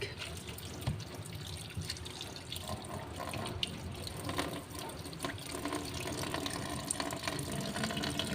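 Tap water runs steadily into a kitchen sink while it is scrubbed clean, a continuous rushing splash with small clinks and drips, close and fairly even for the whole stretch.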